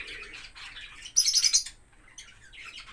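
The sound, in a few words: native Indian parrots calling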